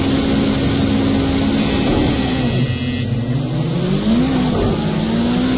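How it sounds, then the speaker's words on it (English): Turbocharged race car engine in a racing video game at the Catalunya circuit, a loud steady drone with rising and falling pitch as it revs through the clip. "Listen to the turbos in it!"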